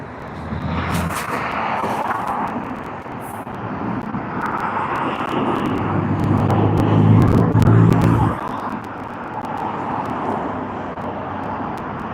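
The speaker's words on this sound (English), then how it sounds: "all the dickheads in the modified cars are now screeching round." Modified cars near a seaside pier roar and rev in the distance, a low engine rumble rising and falling with a louder surge in the middle, under steady outdoor ambience and no talking.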